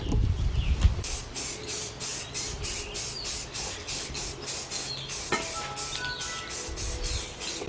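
Spray priming engine parts from a 1977 Buick LeSabre with a 350 engine, a series of short hissing spray bursts in a steady rhythm, close and fairly loud, with a faint knock partway through.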